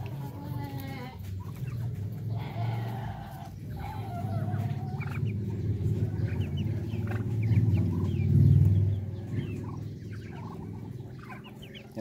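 Many ducklings peep and chirp together on a native chicken farm, a dense chorus of high calls over low fowl clucking and rustling, swelling louder toward the middle of the stretch.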